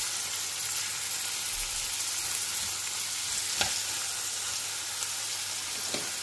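Chopped ginger and garlic fry in a pan with a steady, close sizzle. A couple of sharp utensil knocks break through the constant hiss.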